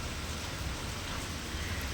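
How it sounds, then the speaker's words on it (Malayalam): Heavy rain pours down steadily over a busy Friday market in Tirur, a dense, continuous hiss of drops drumming on surfaces, loud and unbroken throughout. "നല്ല മഴയാണെങ്കിലും"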